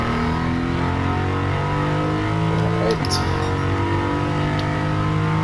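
Jaguar F-Type R on a racing lap, its engine droning steadily and loudly with a brief shift in pitch midway through, as a voice speaks a single short word.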